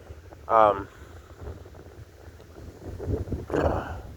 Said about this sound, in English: Man, that wind's cold.